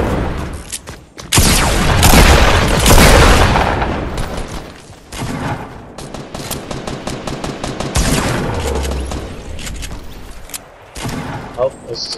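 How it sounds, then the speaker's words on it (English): Rapid automatic gunfire in a Fortnite match, loud, dense bursts and sustained volleys with short gaps, mixed with game effects and a player's voice talking over parts of it. "somebody else is shooting, I think"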